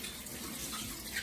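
Tap water runs steadily in a kitchen while cut rhubarb stalks are rinsed clean of grit, producing a brief, soft, continuous splashing hiss.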